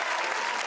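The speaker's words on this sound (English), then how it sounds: "Please give him a round of applause." Steady, dense clapping from a comedy show audience, loud and continuous throughout the short moment, with a bit of cheering mixed in.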